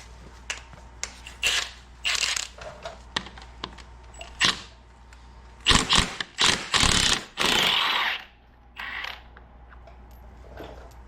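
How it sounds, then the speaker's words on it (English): An impact driver fitted with a 14mm Allen head works a bolt out on a Can-Am Maverick, rattling in several short bursts and then one longer run of loud mechanical hammering, close and with no talk over it. "Allen head and an impact to get this bolt out of here."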